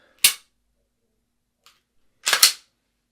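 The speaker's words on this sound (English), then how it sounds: "Take an extra shot." Two sharp pistol shots ring out during a shooting skills test, first a single crack, then after a pause a quick double report close together, loud and near, with silence between.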